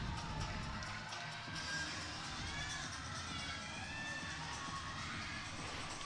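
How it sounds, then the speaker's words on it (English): A crowd at a gymnastics floor routine cheers and shouts steadily throughout, with excited high voices. The sound is distant and fairly faint. "the crowd's loving it"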